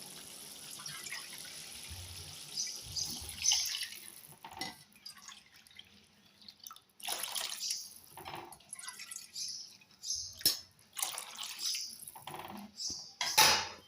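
Water poured into a cooking pan of cooked vegetables while making rava kichadi, heard as several bursts of splashing and trickling with dripping between, close by, along with clinks of a metal cup against the pan.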